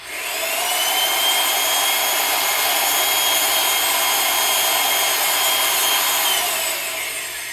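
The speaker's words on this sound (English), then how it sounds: "So I'm now cutting threads." A RIDGID 700 power pipe threader cuts threads on a pipe as a steady, loud, continuous grinding whir that holds throughout and eases off at the very end.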